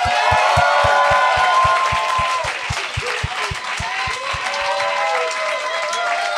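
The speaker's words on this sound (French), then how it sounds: "bonne main d'applaudissement pour Marc-André Fleury et Vincent Léonard" A studio audience claps and cheers for two guests on a podcast, sustained applause over a steady, evenly spaced thumping beat that fades near the end.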